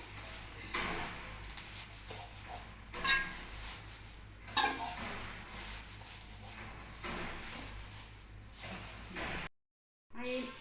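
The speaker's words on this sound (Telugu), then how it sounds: "మంచిగా దగ్గరికి ఇట్లా దగ్గరికి అయ్యే వరకు మంచిగా వేగనియాలి" Moringa leaves and a few curry leaves are stirred and dry-roasted in a pan, giving a steady scraping, rustling rub with a few sharper scrapes and a brief silence near the end.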